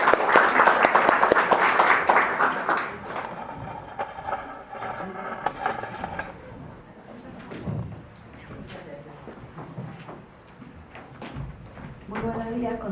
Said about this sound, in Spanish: Démosle un aplauso de bienvenida